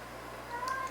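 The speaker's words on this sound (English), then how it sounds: "There's my kitty cat, she's hungry." A pet cat meows from hunger, a short, fairly faint call set against a steady low background hum, with no talking over it.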